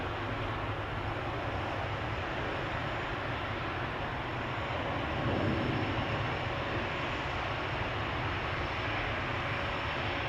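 A KLM Boeing 777-200 airliner, registration PH-BQF, at Schiphol Airport gives off a continuous, even rumble of engine noise, fairly distant and unbroken, with no talking.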